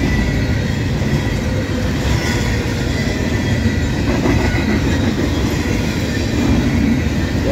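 A CSX freight train led by locomotive 1776 rolls past at Lowellville, Ohio, with a loud, close, continuous rumble and clatter of wheels throughout and no voices.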